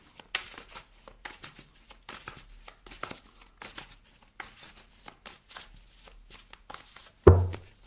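Tarot cards being shuffled for a reading, a run of quick crisp riffling and soft slaps through most of the stretch, ending in one louder thump as the deck is set down.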